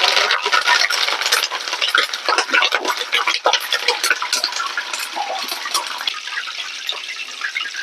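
Curry leaves crackle and spit in hot oil in the final frying step of a crunchy soya fry, a loud, busy, close sizzle with sharp pops that eases slightly toward the end, no talk.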